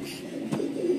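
Pigeon cooing close by for about a second, a soft low burbling coo with a brief swell midway; the bird is a homing pigeon crossed from golden and quail-type stock, with red eyes.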